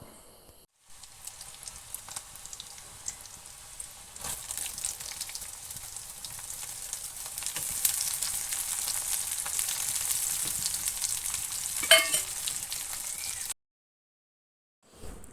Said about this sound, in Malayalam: ചെറിയൊരു വലിയ ഉള്ളി നമ്മൾ ചെറുതായി കട്ട് ചെയ്തുകൊണ്ട് അത് വയറ്റാനിട്ട് കൊടുക്കുന്നുണ്ട്